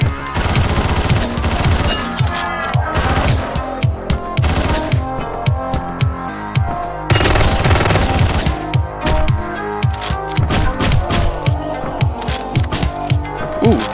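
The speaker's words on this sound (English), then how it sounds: "Those two were going to respond to the gunfire from up top." Rapid bursts of gunfire in the top-down action game Hotline Miami 2 crack out over a steady, loud synth soundtrack, with sharp repeated shots clustering in volleys across the whole stretch.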